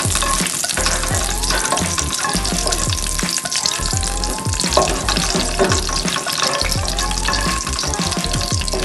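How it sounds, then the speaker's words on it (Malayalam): Cashews and raisins frying in cow ghee: a loud, dense, continuous sizzle with repeated spoon scrapes and stirring knocks against the pan. "അതിലേക്ക് ഞാൻ അണ്ടിപ്പരിപ്പും മുന്തിരിങ്ങയും ഇടുന്നുണ്ട് വറുക്കാൻ വേണ്ടി"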